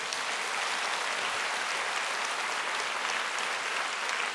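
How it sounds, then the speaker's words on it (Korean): A church congregation applauds together in a large hall, a loud, steady wash of clapping from many hands that continues evenly without a break. "저기 순영홀과 경천홀과 한동홀에 계시는 분들 박수 한번 합시다."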